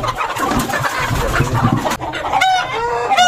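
Home-bred chickens cluck busily close by, and a rooster-like crow breaks in near the end.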